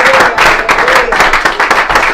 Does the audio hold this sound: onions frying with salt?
no